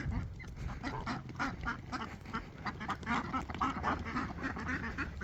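Several young ducks quack repeatedly in a busy, overlapping chorus, close by and fairly quiet, continuing throughout.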